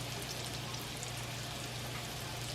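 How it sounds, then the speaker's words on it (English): Eggplant slices frying in olive oil, a steady close crackle and sizzle like light rain, continuous and even throughout with no talking. "you're just frying these up a couple minutes each side"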